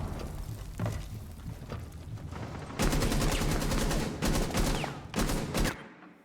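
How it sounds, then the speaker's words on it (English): Rapid gunfire rattles through a tactical shooter match, starting as scattered shots and then breaking into dense, loud bursts with short gaps, close and sharp throughout. "Shots coming down from Blackbeard."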